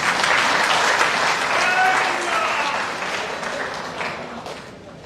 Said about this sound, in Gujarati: આમાં યાર તો મોદી સાહેબને તાળી હોય કે નહીં?